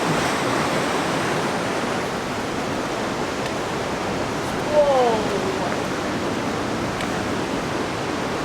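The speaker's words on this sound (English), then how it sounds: "The waves right there." Ocean waves break on a rugged New Zealand shore near Moeraki, a constant broad wash of surf with a brief louder surge midway, fairly close, and faint voices now and then.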